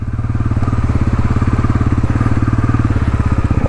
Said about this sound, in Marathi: काय जबरदस्त एक्झॉस्ट आहे.